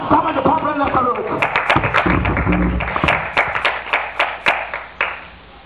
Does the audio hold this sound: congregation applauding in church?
yes